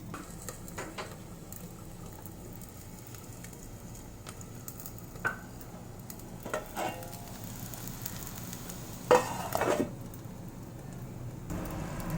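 Soya chaap simmering in a masala gravy, giving a quiet continuous bubbling sizzle with a few sharp clinks and scrapes from a spoon or pot, no talk.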